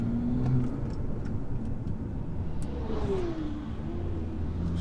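A BMW M240i on warm-up laps at Donington Park circuit, its engine droning steadily and then rising in pitch as it accelerates, heard from inside the car with a constant loud road and wind roar.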